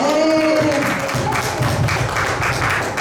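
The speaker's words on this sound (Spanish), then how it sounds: "Con un aplauso. ¡Bravo, Margarita!" An audience applauds at a book presentation at the Bogotá book fair: a steady, dense wash of clapping throughout, with a voice briefly heard at the start.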